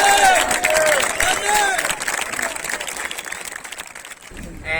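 A crowd at a Barcelona street demonstration applauds and cheers outdoors, clapping mixed with shouting and a loud raised voice at the start, the noise gradually thinning before a brief burst returns.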